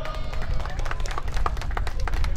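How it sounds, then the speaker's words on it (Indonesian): Audience clapping at a prize ceremony for a village outdoor adventure event, a steady patter of many hands close by, mixed with crowd murmur and a voice speaking. "Tepuk tangan untuk hadirin pun."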